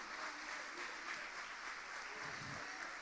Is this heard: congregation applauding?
yes